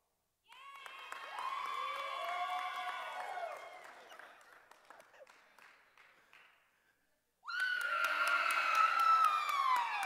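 A crowd claps, cheers and shrieks in a loud burst that fades, then breaks out again after a brief silence.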